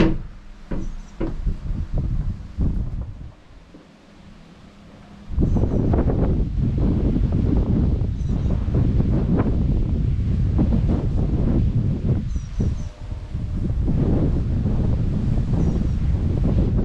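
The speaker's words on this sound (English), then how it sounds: "let's go back into the wind" Gusty wind buffets the microphone in an outdoor graveyard among old lichen-covered headstones, a loud, continuous roar that dips briefly then surges back strong and steady, with no talking.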